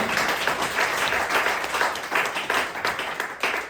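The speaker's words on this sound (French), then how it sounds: "Tenez un applaudissement pour Pierre, s'il vous plaît" Applause from a comedy club audience for a spectator named Pierre, a dense wash of clapping that rises and falls in a few swells across a few seconds, close and fairly loud with no talking over it.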